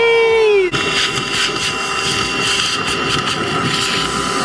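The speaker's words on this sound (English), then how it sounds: "Portable Hoover's here." A portable hoover switches on inside a car, its motor whining down briefly and then settling into a loud, steady roar that continues without a break.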